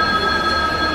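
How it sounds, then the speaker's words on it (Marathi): A brief, steady metallic squeal of the Mandovi Express train's wheels over a low rumble at Sangameshwar railway station in India, loud and close, with no voices. "हा असा संगमेश्वर रेल्वे स्टेशन"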